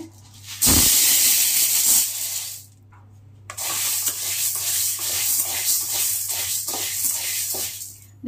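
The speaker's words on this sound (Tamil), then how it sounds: "அடுத்து வந்து பார்த்தீங்கன்னா பச்சைப்பயிறு வறுக்கிறேன்" Green gram is dry-roasted in a pan: a steady scraping, rattling stir runs almost throughout, broken early by a loud rushing burst and a brief pause, with a low hum underneath.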